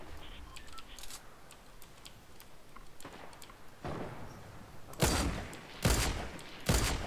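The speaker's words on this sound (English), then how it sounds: "There's people shooting at me" Gunfire in the Fortnite video game: scattered faint shots early on, then three loud, sharp bursts near the end, spaced about a second apart.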